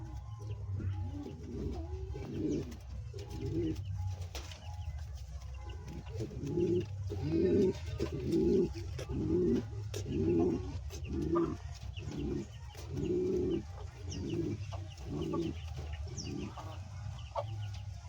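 Pigeons on a pigeon farm coo in repeated low, throaty phrases, a steady rhythmic burbling that continues throughout at moderate volume with no talking.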